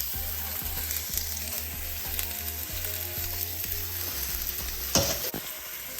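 Onions and beef sauté in a pan during fried rice cooking, giving a continuous close sizzle with rhythmic stirring taps of a utensil and a louder scrape and crackle near the end; nobody talks.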